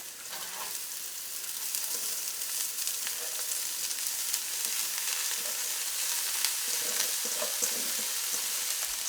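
Carrot and cabbage stir-frying with onion in a pan for a Kerala thoran, a continuous close sizzle with scraping stirs and faint crackles, steady and without speech.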